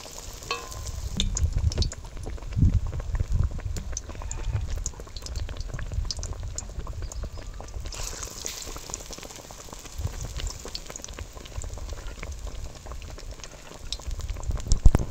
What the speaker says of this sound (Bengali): আমাদের চপ ভাজা হচ্ছে, চপ দিয়ে দিলাম এর মধ্যে, এখন একটুখানি ভাজা হবে